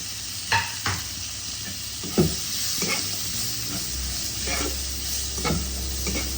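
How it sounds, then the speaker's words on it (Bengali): Chopped onions for a samosa filling fry in a pan while a spatula stirs them, a close steady sizzle broken by several sharp scraping knocks and strokes against the pan, with no talk. "এবার আমি পেঁয়াজ কুচিগুলো দিয়ে দেবো।"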